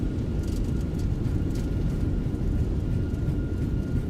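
Fenix A321 airliner landing in MSFS 2024 with reverse thrust engaged: a steady, loud broadband roar with low rumble held throughout, no voices.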